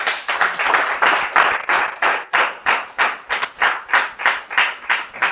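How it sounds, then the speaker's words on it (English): An audience claps together in a rhythmic, steady beat at a goal-setting talk, loud and close, with no voices over it. "please, let's stand up and clap"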